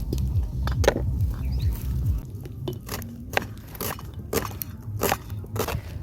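Chopped onion dropped into a hot pan over an outdoor fire, giving irregular crackles and pops over a low background rumble.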